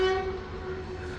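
A train pulling into a station in Nuwara Eliya, Sri Lanka, a steady low rumble with a long drawn horn-like tone near the start, heard alone at moderate level.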